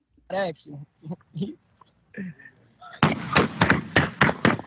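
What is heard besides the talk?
gunshots recorded during a Facebook Live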